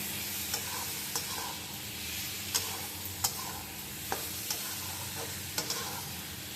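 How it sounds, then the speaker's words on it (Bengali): Cumin powder is stirred into frying mango chicken, a steady close sizzle broken by regular sharp clicks and scrapes of the spoon against the pan, about one every second, with no talk. "তারপর দিয়ে দেবো জিরা গুঁড়া, আবার ভালোভাবে নাড়বো।"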